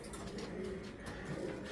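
Belgian racing pigeons in a loft give soft, steady cooing throughout, low and continuous with a faint background hum.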